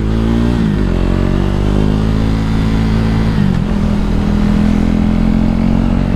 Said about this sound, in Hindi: तो भाई अभी लाइटें हो चुकी हैं, निकल रहे हैं, भगा के दिखाऊंगा आपको मैं अभी तीसरे गियर पे।